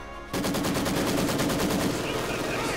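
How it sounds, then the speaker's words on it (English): A Maxim machine gun fires in the Company of Heroes video game, a sudden loud burst of rapid, evenly spaced shots that continues steadily without a break. "immediately coming to fire there from the Maxim"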